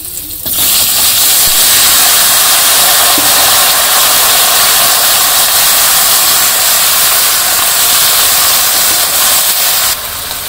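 Vegetables hit hot oil with cumin for a village-style pabda fish curry, giving a loud, steady, close hiss and sizzle that holds for about ten seconds.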